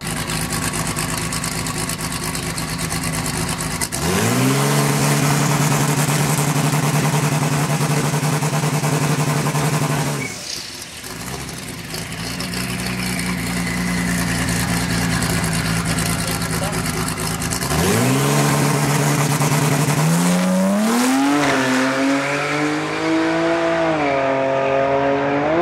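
Datsun drag car with a Vortec 4200 inline-six engine at a drag strip, its loud engine droning steadily, then cutting off, then revving up again with rising pitch as the car pushes down the track, heard fairly close.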